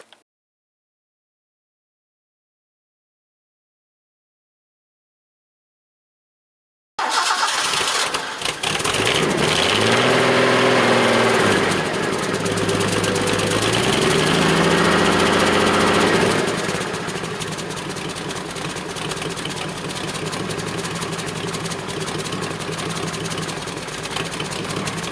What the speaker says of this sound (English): And that is what a good old inline six sounds like.